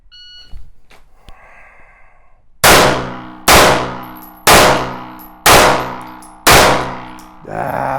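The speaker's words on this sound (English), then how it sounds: "Draw and 5 shots, strong hand only." Five sharp pistol shots fired one-handed with the strong hand after a draw, evenly spaced about a second apart and loud and close, each trailing a ringing decay, preceded by a beeping shot timer and quiet handling noise.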